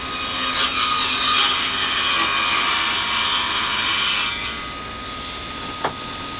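Band saw cutting through a 1/2 inch MDF board for jig runners, a steady loud rasping buzz that holds for about four seconds and then cuts off, leaving a quiet hum with one brief click.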